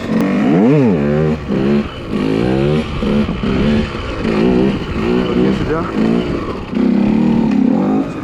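A KTM 125 EXC dirt bike engine revs up and down in repeated surges during wheelie practice, loud and close, with a voice briefly speaking over it.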